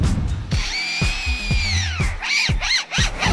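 A lyrebird, native to Australia, imitates a power drill: a whining, rising-and-falling mechanical tone broken by short clicks and bursts, close and clear with no voices over it.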